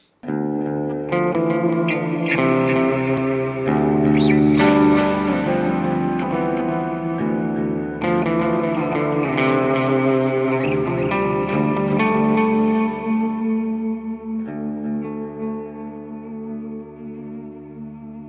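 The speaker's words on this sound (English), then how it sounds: "Let's get into the sounds of the guitar." A PRS Tremonti electric guitar played through effects, sustained chords ringing with echo and shimmering modulation, loud and alone before fading out.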